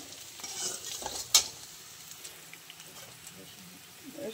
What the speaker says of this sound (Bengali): এই যে এটা পেঁয়াজটা ভাজা হচ্ছে, লঙ্কা অ্যাড করেছি, একটু তেজপাতা দিয়ে দিয়েছি।